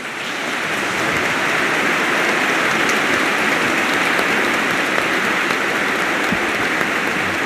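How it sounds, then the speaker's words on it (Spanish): An audience of ceremony attendees gives a strong, steady round of applause for former bishop Bernardo Álvarez, dense clapping that builds quickly and holds evenly throughout. "por quien pido un fuerte aplauso"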